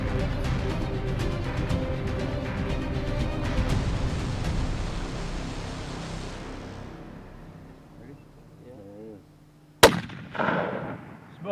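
A hunting rifle shot at a bear across a canyon, a single loud crack near the end followed by a brief rumbling echo, with a steady noisy background before it.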